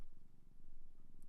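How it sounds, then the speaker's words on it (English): A cat purrs close by in a soft, rhythmic, low rumble with steady pulsing breaths, quiet and continuous with no talking. "if you hear any purring"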